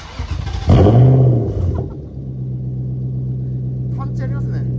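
Nissan President F50 V8 with a full straight exhaust revs sharply once, a loud close roar that fades back to a deep, steady burbling idle, with voices over the end.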